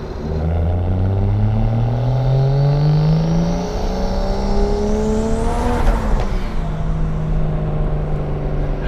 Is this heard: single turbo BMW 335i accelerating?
yes